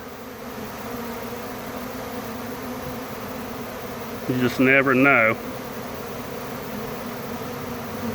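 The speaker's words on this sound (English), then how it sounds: "It seems like the majority of these bees are going to this one here on the right." A steady honey bee swarm hum runs throughout at a hive, then a brief burst of close buzzing swells for about a second as a voice speaks over it.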